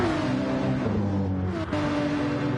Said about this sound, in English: so Murcielago hurtles through into first place